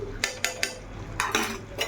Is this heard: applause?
no